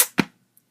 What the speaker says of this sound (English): that's just my neighbor shooting off fireworks